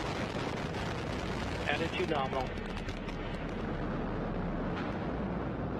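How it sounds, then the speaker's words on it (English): Antares rocket engines at liftoff on the NG-13 mission from Wallops Flight Facility roar as a continuous, distant broadband rumble, heard under a radio voice calling out status checks. "We have engine start. Liftoff Antares, NG-13 mission with Wallops Flight Facility."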